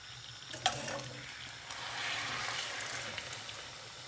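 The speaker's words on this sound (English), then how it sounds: "we put the chicken in the pan" Chicken wings frying in a pan with a little oil and water give a faint, steady sizzling hiss with a few small pops, without talk.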